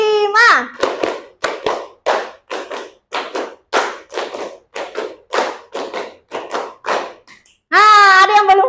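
Children clap together in a steady counted rhythm in a fifth-grade classroom, a run of sharp, evenly spaced claps, with a voice speaking briefly before the claps and singing after them.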